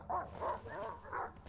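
Dog barking in the Silent Hill Downpour video game on PlayStation 3: four fairly loud barks or yelps in an uneven rhythm, close by, with game ambience underneath and no talk.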